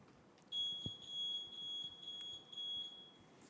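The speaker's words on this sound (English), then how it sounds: "We've all heard that annoying beep from a gas detector." A gas detector alarm sounds a steady, high-pitched electronic tone lasting a few seconds in an otherwise quiet room, with a few small clicks and no one talking.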